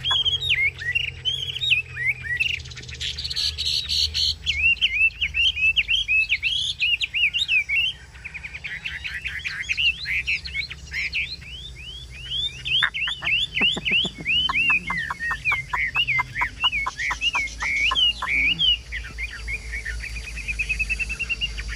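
A Chinese hwamei songbird sings continuously and loudly up close, pouring out fast, varied whistled phrases and rapid trills with barely a pause, with no other sound competing.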